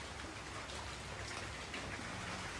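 Rain coming down on a wet village morning, a dense, even hiss of drops striking surfaces that stays steady throughout, soft and slightly distant, with no voices.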